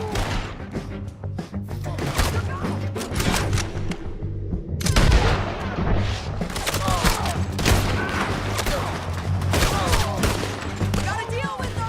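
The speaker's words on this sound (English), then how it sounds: "Let's just start shooting." Gunfire in the video game Red Dead Redemption 2, dense bursts of loud shots fired in rapid succession with a brief lull, then heavy overlapping fire over a low background hum.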